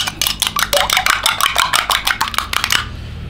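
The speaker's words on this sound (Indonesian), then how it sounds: "telurnya ini dikocok lepas saja" Eggs are whisked with salt and bouillon powder in a bowl: quick, rhythmic clinking strokes of a whisk or fork against the bowl, loud and close, about a dozen beats before stopping.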